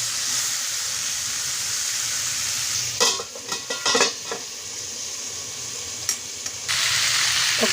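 Grated coconut sizzles steadily as it fries in hot oil in a pan, with a few bursts of spatula scraping and stirring against the metal partway through.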